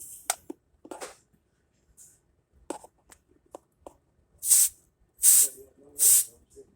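Refrigerant hisses from the service valve of a Samsung RF28R6201SR refrigerator in three short, sharp bursts close by, each about half a second long, after a few faint clicks and taps.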